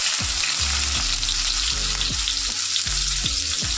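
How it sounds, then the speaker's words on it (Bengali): Chopped onion sizzling in hot oil in a pan for a fish dish, a steady loud fry with a few stirring scrapes and knocks repeating about every second, no voices. "তেল দেওয়ার পরে পেঁয়াজ কুচিটা দিয়ে দেবো।"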